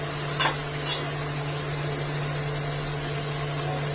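Ground turmeric, cumin and coriander sizzle steadily in hot oil for a banana flower curry, a constant frying hiss with a couple of brief scraping stirs near the start and a low hum underneath.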